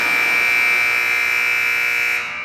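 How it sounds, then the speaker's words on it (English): A loud, piercing electronic buzzer blares as one continuous tone at a youth basketball game, then cuts off at the end. "And that's not going to beat the buzzer."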